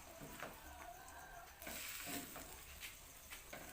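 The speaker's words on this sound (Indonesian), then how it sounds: "masukkan jamur tiram, aduk hingga tercampur merata" Oyster mushrooms are stirred into cooked seasoning with about 100 ml of water in a pan, a faint soft sizzle with scraping strokes of the spatula repeating at an uneven pace.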